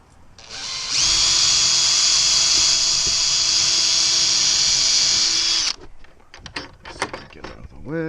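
A power drill drives screws into an extra-heavy-duty padlock slide bolt, a steady loud whine running for about five seconds alone before cutting off, followed by scattered clicks and handling noises.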